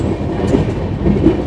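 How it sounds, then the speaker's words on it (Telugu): Interior rumble of a fast-moving long-distance passenger train running between Visakhapatnam and Shirdi, a steady low roar with faint wheel clatter throughout, no voices. "ట్రైన్ అయితే ప్రెసెంట్ 1 అవర్ డిలేలో నడుస్తుంది."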